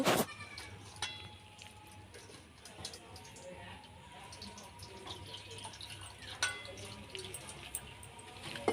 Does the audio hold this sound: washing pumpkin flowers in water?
yes